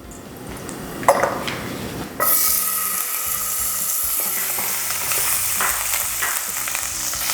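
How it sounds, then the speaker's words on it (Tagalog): Garlic, onion and tomato sauté in a pan for pork giniling. Quiet stirring comes first, then a loud sizzle starts suddenly as the food hits the hot oil and keeps going, with stirring noises close by. "Kailangan lang nating igisa yung bawang,"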